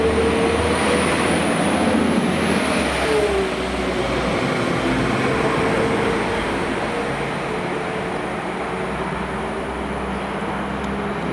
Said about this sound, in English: Here we have the Maesteg train.